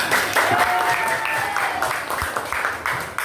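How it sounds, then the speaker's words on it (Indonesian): Classroom applause from students during a lesson, a brief burst of clapping with a few pulses, mixed with faint chatter. "Ya, benar, tepuk tangan."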